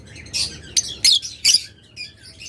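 Several sharp chirps from local-breed pet birds offered for sale, five or six bright bursts close by and loud, with quieter calls trailing after.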